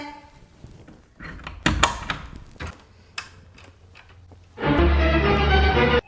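A door is handled and opened, giving a few clunks and knocks. A loud, steady broadband rush follows toward the end, and no one speaks.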